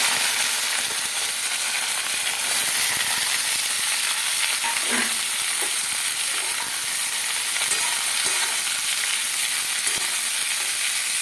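Sliced bitter gourd and potato fry in hot oil in a wok, giving a loud, continuous sizzle with scattered crackles and a few soft scraping knocks, no talking.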